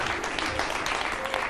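Studio audience clapping on a Pakistani morning talk show, a dense steady patter of many hands throughout, with faint voices mixed in.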